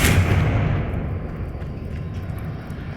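A fiery Confringo spell explosion from Hogwarts Legacy hits as a loud boom at the start, then settles into a long rumbling roar that slowly fades over three seconds, with no talk.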